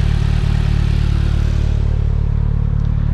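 Engine of a 2022 Polaris Slingshot S running loud and steady at close range, a continuous droning hum with a deep rumbling low end and no voices.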